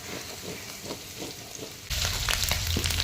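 Grated garlic fries in a pan for a home-cooked Bengali dish, a steady close sizzle that suddenly grows louder and denser partway through, with no talking.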